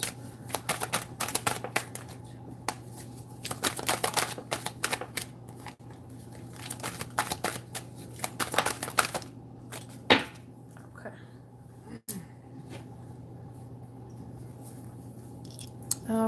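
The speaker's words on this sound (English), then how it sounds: "we're going to go ahead and pull some cards on money before we get started" Tarot cards are shuffled and pulled with quick, close papery riffles and flicks in dense bursts, then sparse soft taps and slides over a low steady hum, with no voices.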